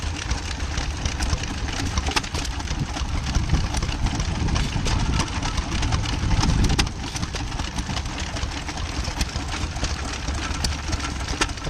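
Stationary engines running diesel, petrol and paraffin chug together at the Henham steam rally 2024, a dense steady stream of rapid close ticking beats over a low rumble, swelling slightly midway.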